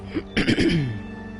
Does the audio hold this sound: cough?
yes